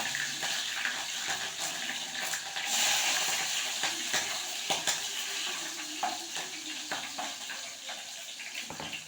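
Cumin, mustard seeds and green chillies sizzle steadily in hot oil in a home kitchen, a continuous close crackling hiss with small pops and a few stirring clicks, no voices.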